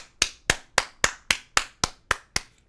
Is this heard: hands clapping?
yes